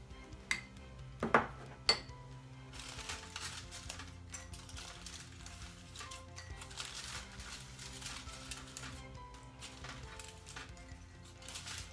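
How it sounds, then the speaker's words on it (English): Potatoes for Spanish patatas bravas tipped into containers, giving a few sharp clinks and knocks early on, then lighter scraping and clatter against a steady low kitchen background, no talk. "So I'm just going to start off with adding some potatoes into my containers"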